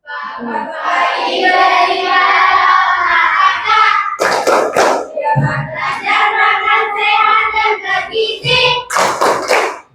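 Indonesian schoolchildren and their teacher perform a rhythmic clapping chant about seven good habits, with loud sung and spoken voices over sharp, regularly spaced hand claps in quick bursts.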